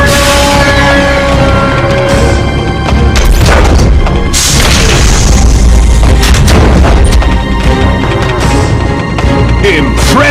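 A massive explosion as the radome is destroyed in Metal Gear Twin Snakes: a very loud, continuous roar of booms and crashes with layered rumble that fills the whole stretch.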